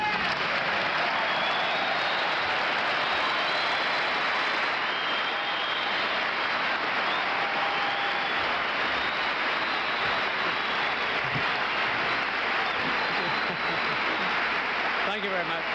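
A large commencement audience applauds and cheers in a sustained, dense roar for Jimmy Carter's standing ovation, steady and loud across the whole stretch with crowd voices mixed into the clapping.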